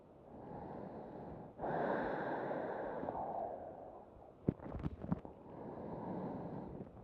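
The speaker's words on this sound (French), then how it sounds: "je prends une profonde respiration ici" Slow, deep breaths during a gentle evening yoga session, a long soft exhale-like rush followed by a few short sharp sniffs and another sustained breath, quiet and close.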